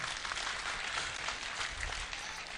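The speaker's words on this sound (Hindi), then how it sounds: "मैं चाहता हूं कि आप इस सोसाइटी के लिए जोरदार तालियां बजाएं." Audience at a mushaira in a hall, applauding the education society with a steady wash of clapping that sounds somewhat distant and fairly quiet.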